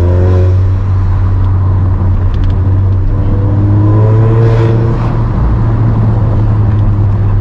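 A tuned turbo VW Fusca TSI with over 300 hp and a Magnaflow exhaust drones and builds as it accelerates, with a heavy low exhaust note throughout and brief higher whines.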